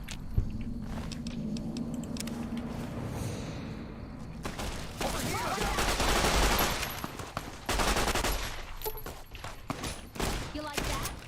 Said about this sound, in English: It's a grease gun.